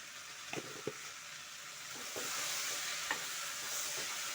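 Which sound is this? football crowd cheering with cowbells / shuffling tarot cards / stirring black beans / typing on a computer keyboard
stirring black beans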